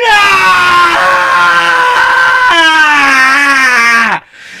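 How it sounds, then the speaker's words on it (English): A man screams in anguish after a football loss, one long loud sustained wail that bends upward, then breaks off into quiet. "I hear someone screaming out in the street right now."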